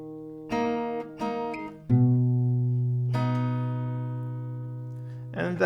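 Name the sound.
acoustic guitar playing a melody part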